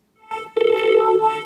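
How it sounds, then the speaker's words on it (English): A vocal line run straight through a basic vocoder, giving a buzzy, pitched, robotic tone with a short first phrase, a brief gap, then a longer sustained phrase, clear and alone. "So that's a straight vocal into the vocoder."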